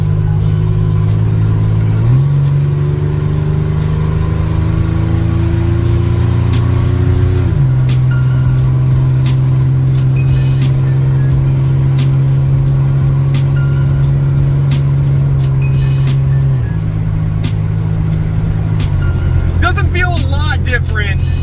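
A Dodge Dakota pickup's engine drones from inside the cab while it merges onto an interstate, its pitch stepping up and holding through gear changes, with someone talking over it.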